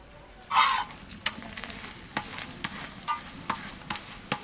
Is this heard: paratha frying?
yes